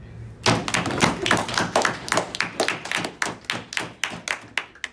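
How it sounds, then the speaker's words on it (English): A burst of applause from a small group, dense clapping at first that thins into scattered individual claps, close and fairly loud, with no talking. "thank you for the round of applause"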